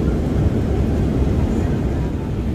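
Constant low droning cabin noise of an airplane in flight, an even, loud engine and air roar with no pauses or voices.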